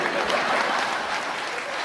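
Audience applause at a Tamil pattimandram debate on family life, a steady wash of clapping hands lasting throughout, fairly loud and even with no voices on top.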